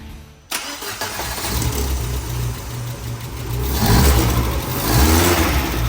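A rebuilt Tata CNG truck engine, repaired after a broken valve and cracked piston, cranks and fires within half a second, then runs loudly nearby, its revs swelling toward the end with no talking.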